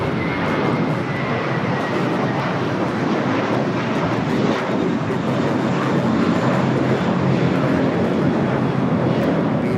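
JetBlue Airbus A321, built 2016, taking off from LAX, a continuous loud engine roar with broad rumbling rush and some wind buffeting, steady for the whole stretch without speech.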